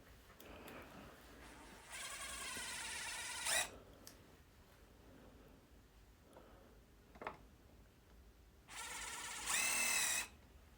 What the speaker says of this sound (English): a little divot for the drill bit for my pilot drill to drill through